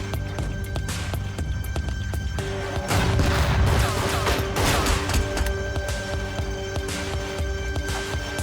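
Explosions in the tactics game Tastee: Lethal Tactics, a rattling burst of blasts and crashing debris around the third second, over a steady game hum and scattered impacts, moderately loud with no talking.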